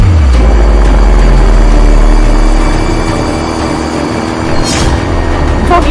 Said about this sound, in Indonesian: Drone itu pasti akan kembali.